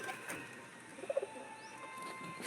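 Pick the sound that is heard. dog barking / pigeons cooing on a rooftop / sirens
pigeons cooing on a rooftop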